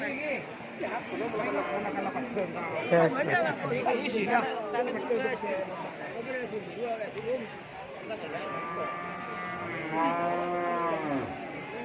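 Cattle moo loudly at a livestock market in Pamekasan, Indonesia, amid a busy crowd of chattering voices, with a long, close low moo near the end over the general bustle.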